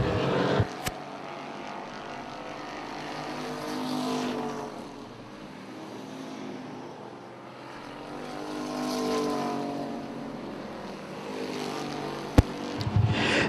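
Race cars lap an oval track, their engines droning from far off as they swell past in two long waves before fading down the back straightaway.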